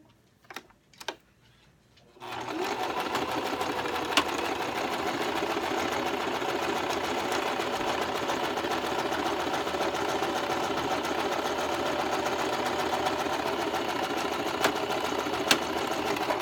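A sewing machine stitches the end of a table runner together, starting after a couple of faint clicks and then running steadily and continuously at close range, with no talking.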